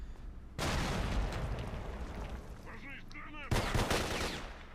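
Automatic gunfire and explosions from the S.T.A.L.K.E.R. game with the L.U.R.K. mod, dense bursts of shots filling most of the clip, loud and close, with a brief lull before a fresh volley and someone talking briefly over it.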